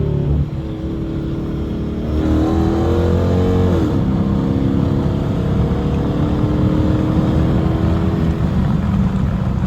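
Dodge Challenger R/T V8 engine pulling in second gear, a loud, close, low-pitched roar that shifts down in pitch, then climbs steadily as the car accelerates, continuous from start to end.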